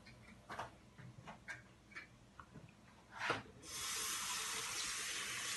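A water tap is turned on for washing the face, a steady rush of running water after a few soft clicks and rubbing handling sounds, close and without talk.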